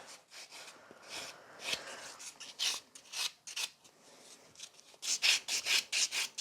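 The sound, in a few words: filing a nail with a buffer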